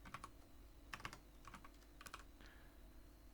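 Quiet clicks of keys being typed on a computer keyboard come in a few short bursts of several keystrokes each, faint and close, with no speech.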